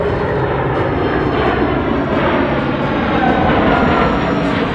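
A C-17 Globemaster III military transport with high-bypass turbofan engines flies its demo at the 2022 Miramar airshow, a loud, steady, broad jet roar that holds throughout with no voices.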